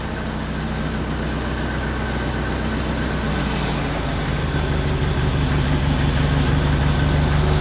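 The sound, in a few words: engine cranked up and running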